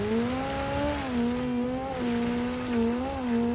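Rally car sliding on gravel in the BeamNG driving game, its engine droning steadily with rising and falling pitch as it drifts, with a continuous tire and gravel hiss underneath, close and fairly loud throughout.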